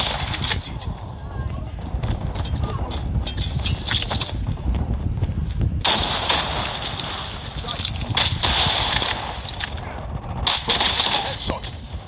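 Gunfire from the DL Q33 sniper rifle with its signature attachment in a shooter video game, a few sharp reports standing out from a steady bed of battle noise, with voices talking over it.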